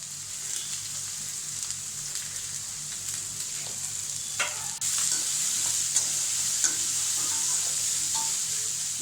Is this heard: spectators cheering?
no